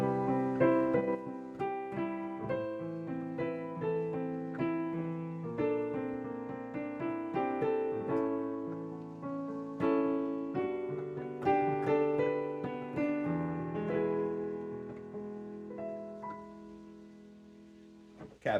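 Rich, ringing chords played one after another in a steady progression, with notes overlapping and sustaining, fading softly at the end.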